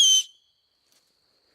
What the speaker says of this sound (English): It's my rape whistle.